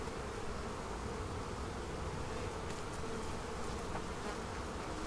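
Honey bees drone in a dense, steady buzz at an open hive, a close and unbroken hum with no voices.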